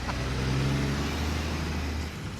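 A lorry drives past nearby with a deep, steady engine drone and a slight shift in pitch, fading a little at the end, with no talking.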